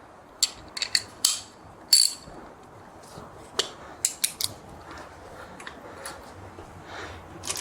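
A ratchet wrench with a 13 mm socket tightens a bolt while installing crash protection on a 2022 BMW S1000RR, giving short bursts of sharp clicking with quiet gaps between, close and fairly faint.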